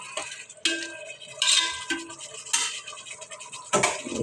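Chicken meat being turned over in a cooking pot for khichuri, with several loud clanks and scrapes of a metal spoon against the pot at irregular intervals, close and without talk.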